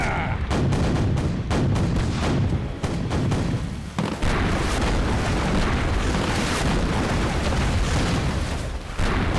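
Cartoon pirate ship cannons firing in a battle, rapid loud booms and blasts in quick succession over a dense rumbling din, with faint voices in the mix.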